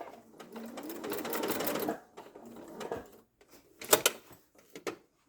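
Domestic sewing machine stitching fabric in a steady whirring run that stops, followed by a few short bursts of stitching and clicks.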